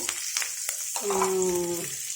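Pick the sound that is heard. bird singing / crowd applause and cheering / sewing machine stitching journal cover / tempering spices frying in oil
tempering spices frying in oil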